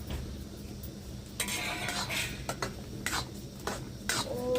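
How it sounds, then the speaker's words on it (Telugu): Bombay Karachi halwa mixture with cashews and cardamom powder being stirred in a pan, giving soft scraping strokes and a faint sizzle, close by and without talk. "మంచిగా అయితే కలుపుకున్నాం కదా, కలబెడతానే ఉండాలి"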